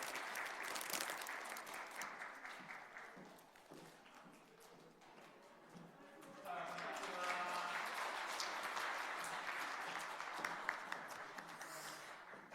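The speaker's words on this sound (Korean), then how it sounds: "박수 한번 주시죠" A church congregation applauding, steady clapping that eases off midway and then swells again louder, continuing to the end.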